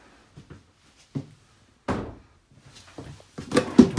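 Drawers in the cabin of a 2019 Chaparral 370FL boat slide and shut in a few separate knocks and thumps, one firmer slam near the middle and a busier cluster of clatter at the end, with quiet gaps between.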